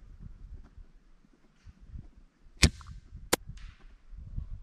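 Two sharp, brief gunshots in a shooter video game, one second apart, crack out over a quiet, low background.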